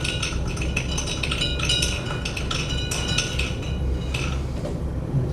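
An egg mixture stirred in a container, with a steady run of quick metallic clinks and scrapes from a utensil, close and fairly loud, with no talking.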